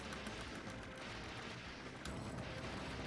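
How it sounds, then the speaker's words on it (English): Dense, continuous barrage of explosions and gunfire-like blasts from a Neo Geo arcade shooter, loud and unbroken throughout, with a sharper burst near the end and no talking. "the explosions in this are really good"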